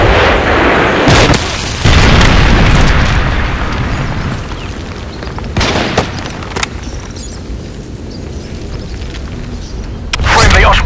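Heavy booms and blasts from a Predator missile strike in a video game roll out, dense and loud, with further explosions and rumbling that fade before another burst near the end.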